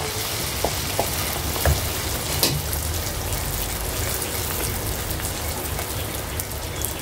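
Rice flour and sugar pitha, a puffy oil pitha, frying in hot oil, giving a steady dense sizzle with occasional small pops and crackles, close and continuous throughout.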